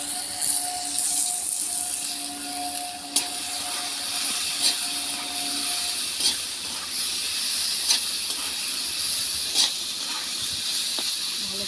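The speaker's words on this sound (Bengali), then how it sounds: "ভালো করে ভাজবো।" Potatoes frying in a pan with chilli powder give a steady, even sizzle and hiss that lasts throughout, with a few soft clicks of stirring and no talk.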